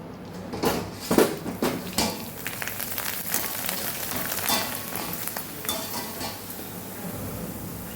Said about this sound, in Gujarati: હવે ભૂંગળા તળી લેશું આપણે.